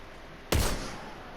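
A single sharp gunshot from a headshot in the shooter game Destiny 2, one crisp crack with a short decaying tail, fairly quiet overall and heard alone.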